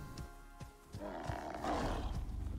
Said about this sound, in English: Jaguar! Oh, crap.